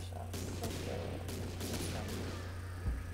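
Gunfire in the video game Killing Floor, a steady barrage of rapid shots with a sharp louder burst near the end, heard over constant game ambience and a low background hum.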